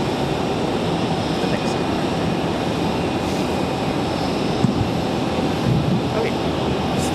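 A Boeing 777 airliner at Raleigh-Durham airport produces a continuous, moderately loud engine rumble and hiss, with faint voices and small clicks scattered through it.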